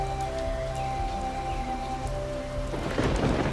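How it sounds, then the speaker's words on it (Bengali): Steady rain patters down while deep thunder rumbles low underneath, swelling louder toward the end. "গুড়গুড় শব্দে ডেকে ওঠে মেঘেরা"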